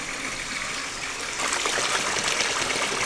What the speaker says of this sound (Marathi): पाण्याचा आवाज येतच असेल तुम्हाला